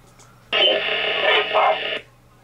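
Ghost box radio sweep played back at a higher volume: a burst of about one and a half seconds of choppy, band-limited radio noise with fragments that resemble voices, rising out of a quiet background hum.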